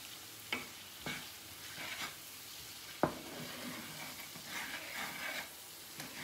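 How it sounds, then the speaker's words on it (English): Sliced peppers and onions sizzle in a pan with Cajun seasoning, a steady close frying hiss broken by several sharp stirring scrapes and knocks. "there's 2 teaspoons of Cajun seasoning that I'm going to cook into those peppers and onions"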